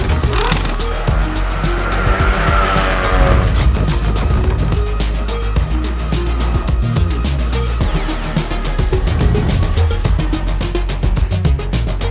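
Race car number 84 pulls away after an extinguisher incident during a motor race. Its engine roars loudly and continuously up close, with tire noise, and the sound stays steady throughout.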